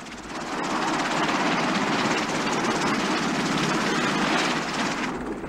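Marine CH-46 Sea Knight and CH-53 Sea Stallion helicopters lift off from the USS Guam during the Grenada operation, their engines and rotors making a loud, continuous roar that swells in and holds steady before easing.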